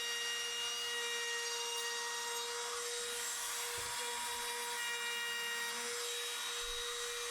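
A small chamfer is cut along the edge of a wooden project piece with a power tool, a steady high whine with brief rubbing and cutting passes, close and fairly quiet, without speech.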